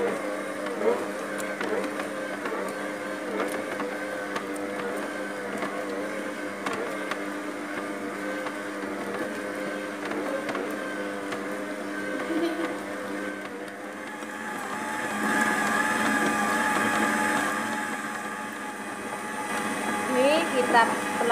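An electric mixer kneads sweet bread dough for sausage rolls, a steady mid-level motor whir with a constant hum that grows slightly louder and rougher near the end, running alone without speech over it.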